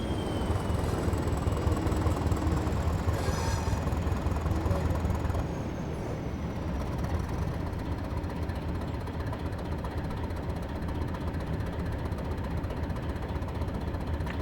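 A diesel train engine on the London to Brighton route in Train Simulator 2021, a continuous rumbling, rattling drone that runs steady and fairly loud throughout with no talk, easing slightly partway through.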